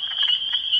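A spring peeper frog, a small climbing frog with toe pads, gives a continuous high piping call, steady and fairly loud throughout with no talking.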